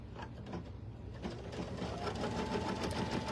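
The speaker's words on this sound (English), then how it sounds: "I'm just gonna tack this one down up here" A sewing machine tacks down fabric in a steady, close, continuous mechanical hum with a fine rapid stitching rhythm, with no voices.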